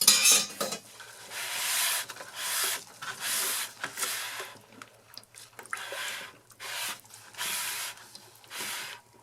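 Charcoal soap batter at light trace is stirred by hand during cold-process soapmaking, producing a series of rhythmic, close scraping and swishing strokes with short pauses between them, with no talk.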